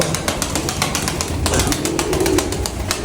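Flying pigeons coo nearby in repeated low, throaty bursts, with fluttering and scratchy rustling between the calls.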